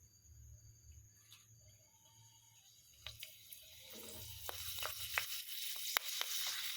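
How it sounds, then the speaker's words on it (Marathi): Poha papad dropped into hot oil, a faint sizzle that builds into louder crackling frying with sharp pops, quiet at first and close by later. "आता यामध्ये मी हे पापड तळून घेणार आहे"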